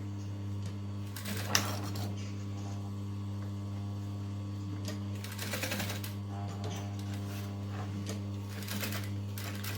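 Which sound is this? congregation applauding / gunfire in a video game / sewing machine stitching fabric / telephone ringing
sewing machine stitching fabric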